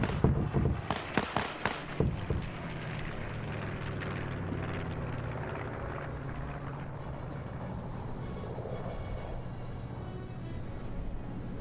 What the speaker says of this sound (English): Now you have an airstrike coming down.